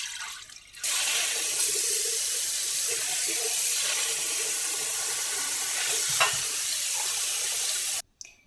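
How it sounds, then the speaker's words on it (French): Soaked lentils are rinsed under running water, a steady close hiss of flowing water that starts abruptly, holds evenly, and cuts off just before the end. "je commence par les rincer"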